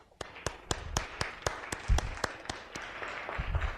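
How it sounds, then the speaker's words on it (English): A small crowd claps steadily for a few seconds, individual hand claps standing out as sharp, close taps rather than a dense roar. "But first, can we get a round of applause for Lawrence and Jill for everything they do"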